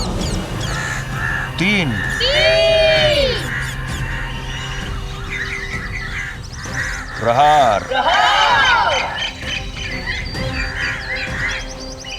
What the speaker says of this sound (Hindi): ये अचानक से सारे पक्षी क्रंदन करते हुए अयोध्या की ओर क्यों जा रहे हैं?